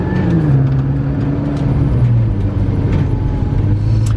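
A 2015 McLaren 650S Spyder, a repairable salvage car, pulling away with a low engine rumble and rising then falling tones as it gains speed, steady and fairly loud.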